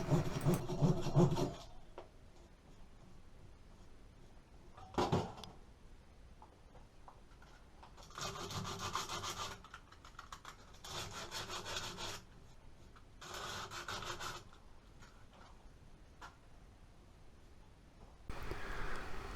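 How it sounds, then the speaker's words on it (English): A flexible Japanese handsaw trims a wooden axe handle flush with a cracked axe head, followed by light sanding, heard as several separate bursts of rasping, rubbing strokes at close range with quiet gaps between them. "I use a Japanese handsaw to trim the end of the handle flush with the axe head"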